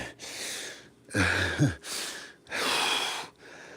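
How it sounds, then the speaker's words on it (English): Heavy, audible breathing from a smoker who has been smoking more cigarettes than usual, with several long rasping breaths repeating close to the mic, plus a voiced gasp-like huff in the middle. "I'm breathing heavy because I have been smoking more cigarettes than usual"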